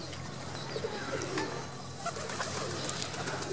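Breeder pigeons in a loft coo softly against a steady background hum, with occasional brief wing flaps and chirps. The birds sound close and fairly quiet.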